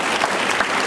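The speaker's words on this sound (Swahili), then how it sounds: "Tuwapigie makofi sana." A short, steady burst of audience applause at a Swahili education bootcamp award ceremony, many hands clapping at once in a dense patter.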